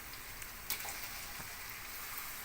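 Eggs go into a frying pan already cooking tomatoes and shallots, raising a steady broadband sizzle with a faint sharper crackle near the start, held at an even level throughout with no voices.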